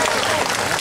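Brief burst of dense audience applause at the opening of an international youth arts festival in Sozopol, steady and loud throughout.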